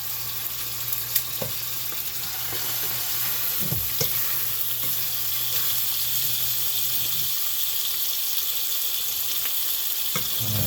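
Food fries in a pan with butter and garlic, giving a steady, close hiss and crackle that carries on throughout, with a few faint clinks of stirring.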